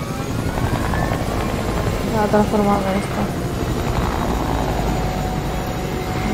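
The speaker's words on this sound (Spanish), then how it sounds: "Sí, sí, está aquí el helicóptero" A Fortnite helicopter's rotor chops steadily and loudly throughout, with a voice talking over it partway through.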